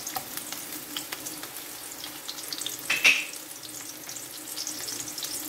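Chayote sautéing in canola oil in a pan with garlic and onion gives a quiet, steady sizzle throughout, with one brief louder spatter midway and no voices.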